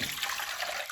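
A short burst of water pouring and splashing into a pot for steaming, close and steady for under a second.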